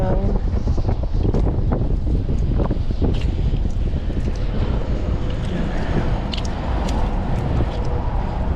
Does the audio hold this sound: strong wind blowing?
yes